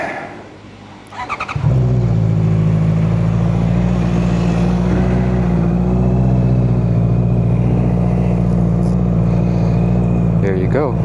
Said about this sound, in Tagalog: Cold starting with the Akrapovic exhaust never disappoints me. It always sounds so good.